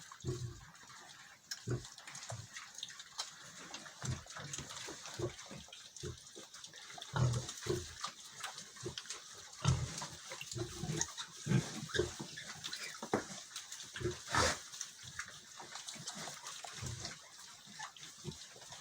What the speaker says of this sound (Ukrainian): так годує наша свинка